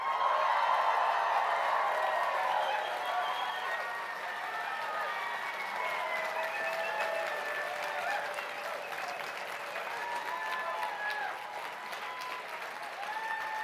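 A large crowd at an Alberta NDP leadership event cheering and applauding, dense sustained clapping with whoops and shouts, loud and continuous throughout.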